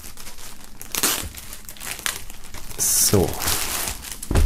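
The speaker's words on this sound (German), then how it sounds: "nachdem hier ja diverse Sachen noch in Folie sind, werden wir das Ganze mal öffnen" Plastic foil wrapping being crinkled and torn open from items in a merchandise box set containing a hoodie and albums, with loud crackling bursts close by and a brief spoken word at the start.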